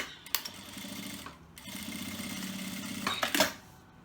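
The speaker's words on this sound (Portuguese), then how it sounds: "vamos costurar aqui com um pezinho de máquina" A sewing machine with a presser foot stitches fabric for a children's bag in steady mechanical runs, stopping and starting again, with sharper clicks as the needle and fabric are repositioned.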